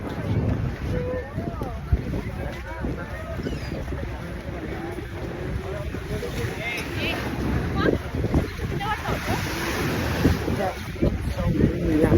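Strong wind buffets the microphone on a Statue of Liberty tour boat, a constant rough roar with water and engine rumble beneath, while someone talks over it.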